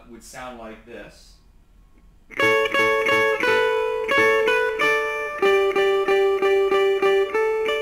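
After a short spoken lead-in, a clean guitar plays a variation of a well-known riff, with bright, ringing repeated notes picked in a steady rhythm at close range.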